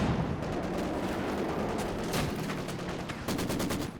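Sustained machine gun fire with overlapping distant shots and battlefield rumble in a Company of Heroes 2 match, dense, steady and loud throughout with no talk.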